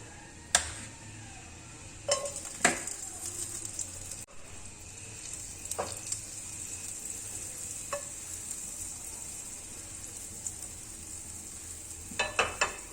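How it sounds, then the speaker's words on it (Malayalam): A small piece of butter melts in a hot pan on a gas stove, giving a steady close sizzling hiss with occasional sharp clinks and taps of a utensil against the pan, and no voices. "ഇനി അതിലോട്ട് ഒരു ചെറിയ കഷ്ണം ബട്ടർ ഇട്ട് കൊടുക്കാം."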